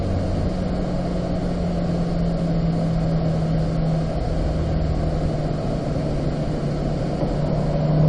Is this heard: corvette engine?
yes